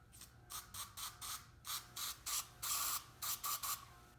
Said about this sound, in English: shoot some adhesive into a cap like that, any spray paint cap